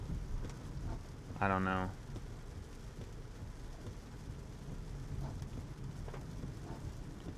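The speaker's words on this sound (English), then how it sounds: "it's raining pretty hard" Heavy rain drums steadily on a car while driving, a constant close wash of noise at low level, with a person briefly speaking over it.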